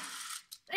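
A Beyblade spinning top launcher is pulled, giving a short mechanical ratcheting whir that cuts out, then a brief click and a louder rattling burst as the top is released, close and alone.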